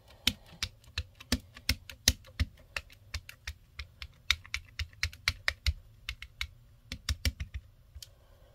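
Small plastic pieces of a monoprinting setup are snapped and clicked together in a quick, irregular run of sharp, close taps, each crisp and distinct against a quiet room with no talking.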